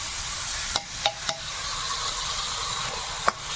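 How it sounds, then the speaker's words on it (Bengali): Ginger, garlic and onion fry with tomato paste in a pan, giving a steady hissing sizzle broken by a few sharp stirring clinks, with no talking. "আদা রসুন পেঁয়াজ ভালো করে ভেজে নিয়েছি কাঁচা গন্ধ চলে গেছে এবার টমেটো বাটা দিলাম"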